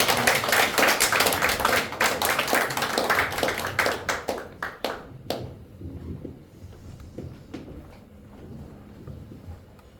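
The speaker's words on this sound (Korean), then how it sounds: "우리 박수로 다 축하합니다." A church congregation claps in celebration after a prayer, dense and loud at first, then thinning into scattered individual claps before fading out.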